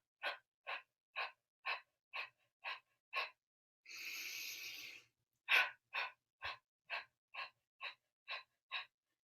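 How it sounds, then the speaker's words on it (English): Meditation breathing with one deep inhale through the nose and eight short, forceful exhales through the mouth: a run of evenly spaced puffs, one long drawn breath, then another even series of sharp breaths, close and alone. "take a deep inhale through the nose and then 8 exhales through the mouth"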